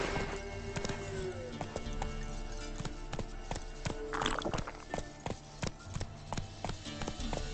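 Horse hooves clip-clop in a quick, steady galloping rhythm in The Witcher 3, close and continuous, with a brief whinny partway through and no talk.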